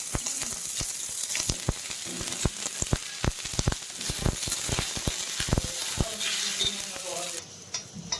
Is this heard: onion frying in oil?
yes